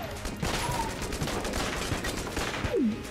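Shotgun fire in the video game Enter The Gungeon comes as rapid, close volleys of sharp blasts in a steady stream, with game tones sweeping underneath during a boss fight.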